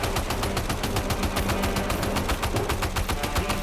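A machine gun in Death Stranding 2 fires continuously in a fast, even rhythm, loud and close, with no talking.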